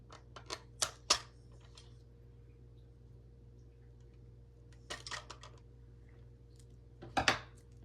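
Scissors snip a band on toy car packaging in a quiet room: a few sharp clicks come close together at the start, then a short pause, then two more snips, all near and fairly faint.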